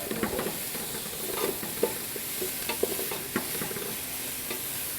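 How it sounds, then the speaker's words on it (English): Onions sauteing in a pan for Filipino chicken adobo give a steady, moderate sizzle broken by scattered clicks and taps of stirring, heard alone without talk. "So we're just going to let that saute until they're just translucent."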